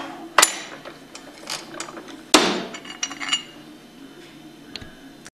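Bearing pressed out of a Hypro roller pump with a bearing tool, heard as two sharp metallic clanks followed by smaller clicks and scrapes of metal parts, close and without talking.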